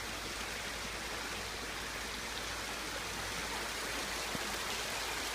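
Water pours steadily from a pipe into a narrow, straight stream, a dense and continuous rushing hiss with no breaks.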